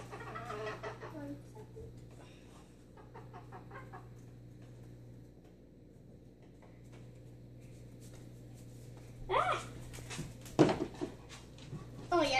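Faint chicken clucks over a steady hum and low background noise, ending with a few louder, sharper fowl calls.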